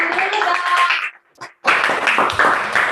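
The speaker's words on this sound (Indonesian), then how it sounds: "Tepuk tangan dulu, Bang." Hands clap in an Indonesian classroom, a close burst of applause that stops briefly and then resumes, with voices mixed in.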